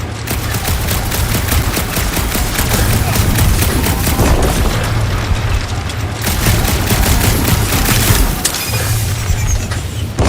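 Rapid, continuous blasts from Quill's guns in the Guardians of the Galaxy video game, loud and dense, with repeated shots and booming impacts layered together and a few short breaks in the barrage.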